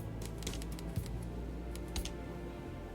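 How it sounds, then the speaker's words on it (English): Soft typewriter key clicks used as character dialogue sound in the video game Pecaminosa, a quick irregular patter of light taps over a low background hum. "For this game, it's a freaking typewriter."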